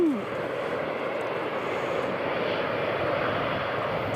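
An Emirates airliner taxis at Newcastle International Airport, its jet engines producing a steady, loud broadband roar and hiss that holds evenly with no breaks.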